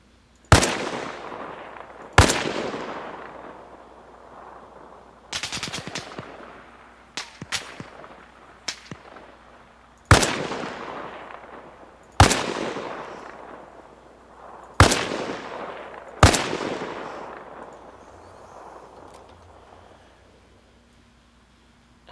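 Sharp, loud rifle shots from an SVD sniper rifle in Arma Reforger, about eight cracks spaced irregularly a second or more apart, each trailing off in a long echoing decay.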